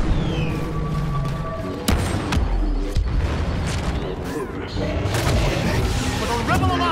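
A grenade explosion in Star Wars Battlefront II on Hoth: a sudden loud boom with rumbling tail amid ongoing blaster fire, laser zips and battle noise, with voices calling out over it.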